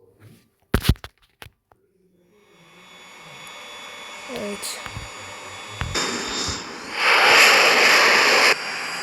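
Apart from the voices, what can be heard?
F-22 fighter jet engine in a flight video game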